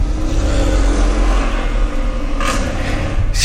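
Stage 2 tuned BMW accelerating hard, a loud close engine roar with turbo rush and two sharp bursts near the end as it shifts gears.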